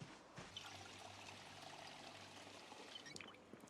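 A water bottle being filled in the video game Project Zomboid: a steady pouring trickle of water that runs continuously at a soft level, with a few small clinks near the end.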